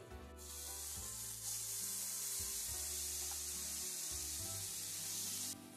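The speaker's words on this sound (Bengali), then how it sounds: "পেঁয়াজটা কিন্তু খুব ভালোভাবে একটু নেড়ে চেড়ে ভেজে নিতে হবে, কাঁচা গন্ধটা চলে যাওয়া পর্যন্ত।" Ground onion paste fries in hot oil with whole garam masala for a Bengali yogurt catla fish curry, giving a steady, close sizzling hiss that runs nearly six seconds with a faint low hum underneath.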